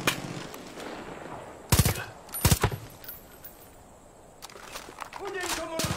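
Bursts of video game gunfire, two short loud volleys of rapid shots, set against background game sounds with a player talking.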